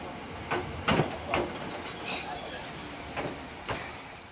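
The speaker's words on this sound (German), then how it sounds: "Einfahrt in den Bahnhof des meistbesuchten Orts in der Region." A train pulls into Miyanoshita station high in the mountains of Hakone, Japan, with a steady rumble, rhythmic wheel clatter and a thin squeal of wheels on rail, while a voice talks over it.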